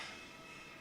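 A train rushing past, heard as a faint, steady broadband roar with a hint of rail noise, no voices.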